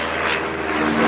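A propeller airplane flying overhead, a loud, steady engine drone filling a short moment.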